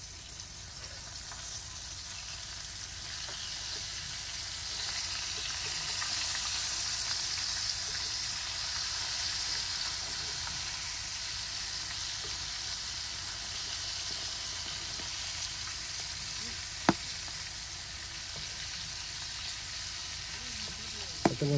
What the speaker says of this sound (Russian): Это воздушные пузыри лопаются из-за температуры.